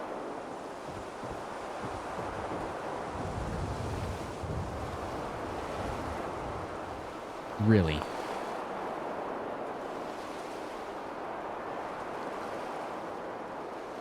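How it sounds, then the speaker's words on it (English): Sea waves and wind from Fallout 4, a steady washing surf with a constant windy roar. A person speaks briefly near the middle. "We should have nice sea noises while we're doing this one"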